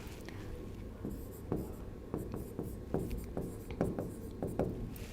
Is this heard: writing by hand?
yes